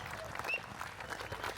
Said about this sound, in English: So a big round of applause for the admin team